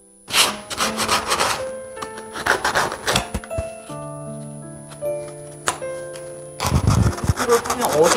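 Sandpaper rubs a birch wood spatula in repeated bursts of dry, raspy strokes, close and fairly loud, with pauses between passes and some tonal background sound in the gaps.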